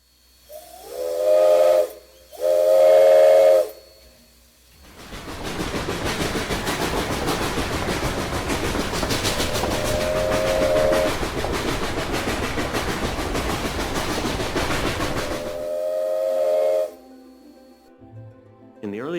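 A railroad steam whistle gives two short blasts, then one long sustained blast over a broad hissing roar, and ends in a final tail of the whistle tone. All of it is loud and near.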